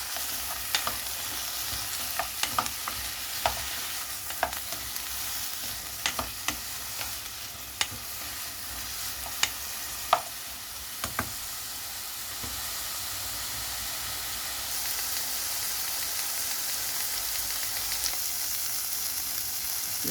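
Eggplant sizzles in olive oil in a pan, a steady hiss of frying broken now and then by sharp clicks of stirring.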